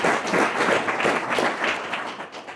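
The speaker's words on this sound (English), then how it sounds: "So let's give Dave a round of applause now." Audience applause at a community reading of the Gunnison Valley Journal in Crested Butte, a steady dense wash of clapping from a sizeable crowd, fairly loud and sustained without a break.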